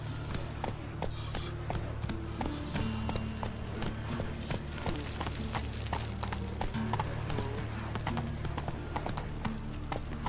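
Roach, a horse in The Witcher 3: Wild Hunt, trots along with steady, evenly spaced clip-clop hoofbeats over a constant low background hum, near and fairly loud throughout.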